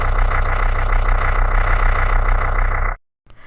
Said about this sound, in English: so it's got some engine noises, like you would expect